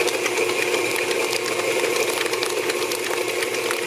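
An electric mixer running slowly through cream cheese frosting loaded with powdered sugar, giving a steady, close whirring motor hum with a faint rattle and no talk.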